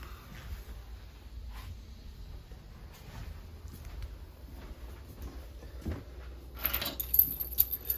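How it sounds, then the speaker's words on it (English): A set of keys for a 2022 Catalina 303RKDS travel trailer jingles in a short, bright burst near the end, after a quiet stretch with faint handling noises and a low background hum. "And then here are your keys."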